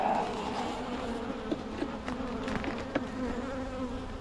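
Honey bees buzz in a steady, dense drone during a November beehive inspection, with faint clicks and knocks of frames and hive tools under the hum, and no voices.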